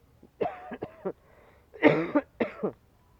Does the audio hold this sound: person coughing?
yes